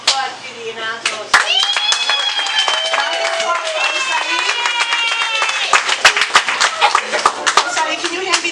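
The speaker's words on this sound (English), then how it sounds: "let's give a round of applause to the announcers" An audience at a fundraiser event breaks into lively clapping that swells into sustained applause, with voices calling out over it.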